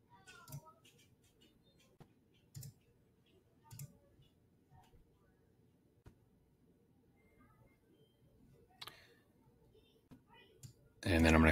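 Computer mouse clicks, a handful of sharp, faint, irregularly spaced ticks against a quiet room, ending in a sudden louder burst.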